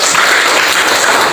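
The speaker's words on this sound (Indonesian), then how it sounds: "Ya, tepuk tangan buat kelompok." A classroom group gets steady applause, dense continuous clapping at full volume throughout the short burst.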